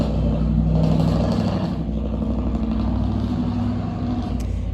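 A truck rolls past a rural farmyard with a loud, steady engine rumble and road roar that holds throughout, close by and dominating everything else.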